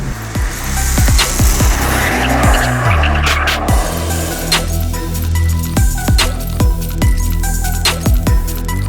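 A Nissan GT-R Track Edition accelerates out of a corner on a race track, its engine note rising and falling through rapid gear changes, close and loud, with brief tyre noise and no one talking.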